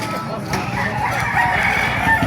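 Several roosters crow at a chicken market in Baliuag, Bulacan, over a busy, noisy background, with overlapping calls and a steady crowd hum.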